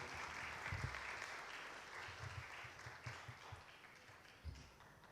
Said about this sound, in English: Everyone, a round of applause for Professor Geoffery Wood.